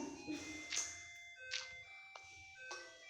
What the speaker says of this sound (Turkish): evet zil çalıyor